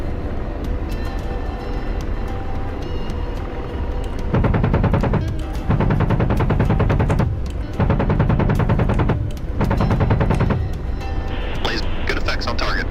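Aircraft-mounted guns in a video game war scenario rattle out three long, loud, sustained bursts after a quieter engine-like drone, each stream of rapid shots separated by short gaps.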